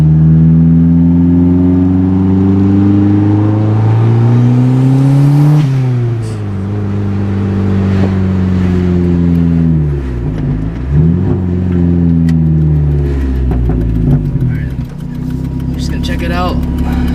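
A turbocharged Mazda Miata with a rebuilt Greddy turbo and worn motor mounts accelerates hard: a loud, close engine whose pitch climbs steeply, drops at a shift, then climbs again with whirring turbo spool.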